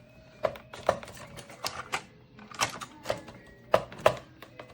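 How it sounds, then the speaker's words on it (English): A Keurig K-Cafe coffee maker's milk frother makes irregular clicking and ticking bursts as if trying to start, quiet and close, with repeated sharp taps and no talking. "that frother makes a noise like it wants to turn on"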